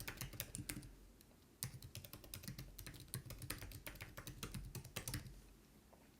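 An email address being typed on a computer keyboard while setting up OneDrive, a quick, steady run of close, light key clicks with a brief pause partway through, no talk.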